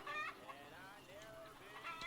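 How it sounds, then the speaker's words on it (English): Chickens cluck in a gritty film scene, short excited bursts close by, partly overlapping a voice talking. "Wolf J. Flywheel and his friend Cleavon go to pick up chickens"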